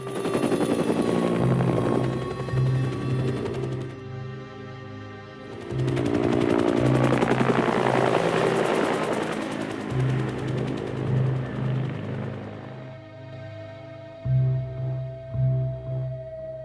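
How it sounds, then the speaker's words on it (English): Loud rotor thumping from helicopters landing on a ship at sea, pulsing steadily with roaring engine noise that swells and fades as aircraft pass close by. "those helicopters were trying to land on our ship"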